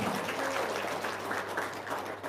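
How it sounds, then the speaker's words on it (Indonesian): Audience applause at an Indonesian motivational seminar, a dense steady wash of many hands clapping that holds level for the whole span with no talk over it. "tepuk tangan dulu dong"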